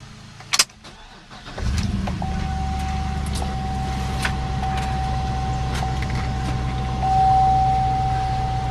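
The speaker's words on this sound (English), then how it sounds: "I need to back it down off the ramp so the truck is level." A 2005 Chevy SSR pickup starts with a click and engine turnover, then idles steadily at close range while a faint electronic tone sounds as it prepares to back down off ramps.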